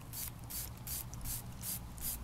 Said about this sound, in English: going to try spraying both of these down with a little bit of fragrance oil